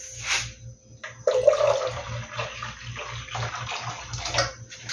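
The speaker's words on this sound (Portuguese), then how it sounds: "agora eu vou colocar água aqui dentro" Water pours steadily into a cooking pot for bean soup, a continuous splashing rush that stops briefly, then resumes close and fairly loud with a faint low hum beneath.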